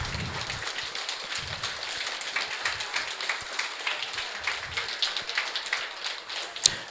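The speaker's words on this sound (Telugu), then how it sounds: "గట్టిగా చప్పట్లు కొడదాం గురువుగారికి" An audience at a spiritual gathering in Naimisharanyam, Uttar Pradesh, applauds a guru: dense, continuous clapping that stays steady for several seconds, with one sharp clap standing out near the end.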